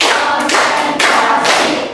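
A class claps hands together on a teacher's count, with bursts of applause-like clapping starting and stopping in short groups, loud and close.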